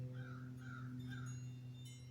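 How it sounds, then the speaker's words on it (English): Crows caw outside in daylight, three hoarse calls in a row that sound fairly distant over a constant low indoor hum. "the crows are calling to me"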